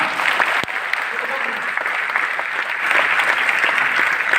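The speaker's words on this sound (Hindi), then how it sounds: "जोरदार तालियां" Loud, sustained applause from a large audience at a motivational business seminar, dense even clapping filling the clip with a sharp knock early on.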